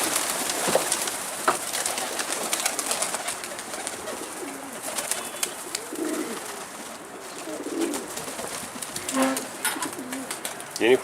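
Pigeons on a rooftop give soft, low cooing calls in scattered bursts against a busy outdoor background, some near and some farther off.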